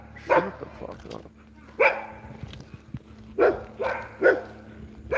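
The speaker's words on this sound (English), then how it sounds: "Sorry guys, we got a lot of dog barking." A dog barks repeatedly at close range in a home gym during a high-volume full-body workout, with sharp barks in bursts about every second or two over a low steady hum.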